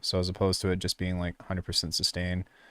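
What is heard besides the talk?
No everyday noises stand out.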